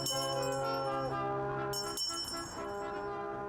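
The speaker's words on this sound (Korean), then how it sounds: "크리스마스 캐럴 연주와 함께 자선 냄비의 종소리가 울려 퍼집니다." A Salvation Army charity kettle hand bell rings on a city street with Christmas carols played, sustained tonal notes in a mellow, steady chord, continuous without voices.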